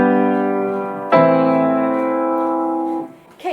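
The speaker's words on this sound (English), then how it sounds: "The deceptive cadence is what you use when you want to keep going." Two sustained piano-like chords in a deceptive cadence, a dominant chord moving to the submediant: the first rings about a second, then a fresh attack brings the second chord, which holds and fades, played alone with no talking.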